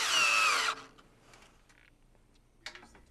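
A power drill bores a 3/16 inch hole at an angle through a railing's snap pocket and shear block. It gives one loud, close whirring burst under a second long, followed by faint clicks and handling noises.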